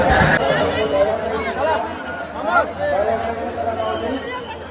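Dense crowd of pilgrims at the Ashadhi Wari in Pandharpur, a steady loud babble of many voices close around with footsteps and bustle throughout.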